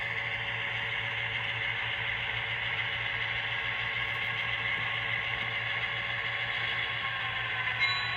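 A Walthers Mainline Central Vermont GP9 model locomotive hums and whirs steadily at close range, with a constant motor drone and faint mechanical rattling throughout.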